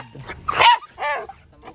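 A dog barks twice up close, a sharp bark followed by a shorter, whinier one, then quiet.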